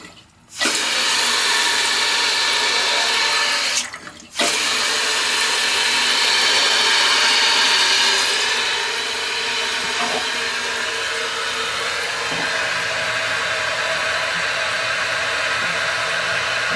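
A toilet tank keeps refilling without shutting off, a loud, steady rush of running water heard up close and alone, broken only by a couple of short dips near the start.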